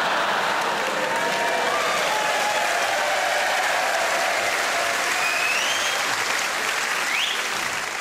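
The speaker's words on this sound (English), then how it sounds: "A round of applause" A live comedy show audience breaks into loud, sustained applause, thick and continuous, with a few whistles and cheers rising above the clapping.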